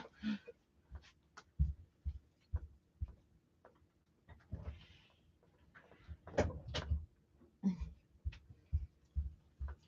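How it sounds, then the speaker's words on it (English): A cat scratches at a door indoors in short, irregular bursts of scraping and soft thumps, fairly close and quiet. "My cat is scratching at the door."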